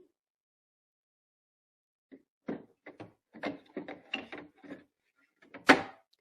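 The scanner cover of a ScanNCut cutting machine is fitted back on, giving a series of small plastic knocks and rattles ending in one sharper click, close and quiet, with silence before.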